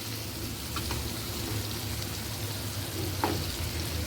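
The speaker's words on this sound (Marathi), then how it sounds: "असे या तेलात मी हळूहळू सगळे बोंबील तळून घेणार आहे" Bombay duck (bombil) fish frying in hot oil, a steady broadband sizzle and crackle running throughout with a few small pops, close and moderately loud, no voices.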